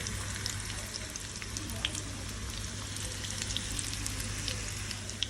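Steady crackling sizzle of coconut pieces frying in hot ghee for payasam, continuous and close, with scattered sharp pops and no talking.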